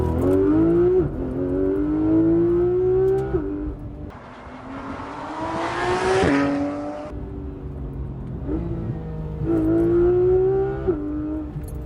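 A Porsche GT3 RS with a naturally aspirated engine pulls hard through several gears, each rising howl broken by a short shift gap, loud and close from inside the car.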